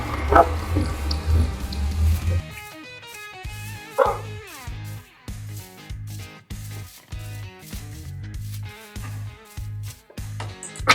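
A dog barks in Minecraft, a series of short, evenly spaced blocky yips repeating over a steady game music bed, fairly close and moderately loud.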